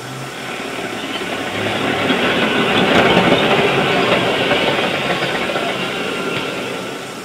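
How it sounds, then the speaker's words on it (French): Pluton tactical ballistic missile launcher vehicle maneuvering into firing alignment, a steady, loud engine and track rumble that swells in the middle and eases off toward the end, with no voices. "Le véhicule lanceur s'aligne sur la direction déterminée à partir du message de tir."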